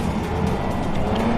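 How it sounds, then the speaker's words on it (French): A car fitted with a Nissan CA18 engine drives along, giving a steady low engine drone with road rumble, heard close from inside and continuous for a moment, with no speech. "Cette voiture et ce CA18, c'est le moteur que j'ai"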